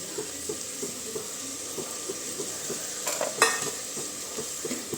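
Finely chopped tomatoes sauté in a pan of mixed vegetables for a traditional Makar Sankranti dish, giving a quiet, steady sizzle broken by soft spoon-stirring scrapes and a brief louder clatter near the end.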